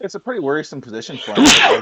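A single sharp, loud sneeze bursts out right after a stretch of speech from a commentator during a Magic: The Gathering Arena match.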